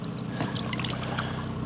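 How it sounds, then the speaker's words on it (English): Water sloshes and trickles past a Chinook salmon's gills as it is gently rocked back and forth for release off Port Hardy, a soft continuous pouring wash close by with low background rumble. "Just wash some water past his gills."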